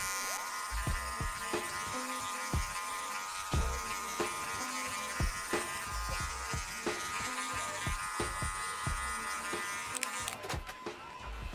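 Electric hair clippers fitted with a half guard buff a bald fade, giving a continuous close buzz broken by short rhythmic clicks and strokes as the lever opens and closes against the hair.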